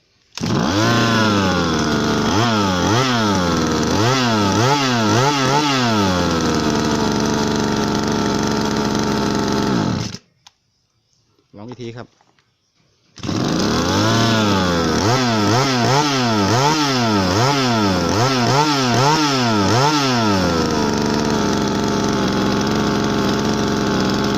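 A small 30-odd cc two-stroke brush cutter engine, Tiger line411 (model 328), runs loudly and close by, revving up and down in repeated waves, cutting out briefly before restarting and revving again.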